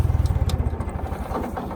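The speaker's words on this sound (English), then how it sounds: "And shut the tractor off." A John Deere 2010 tractor engine chugs with a steady low pulsing idle, then the beat loosens and fades as it is shut off, close and fairly loud.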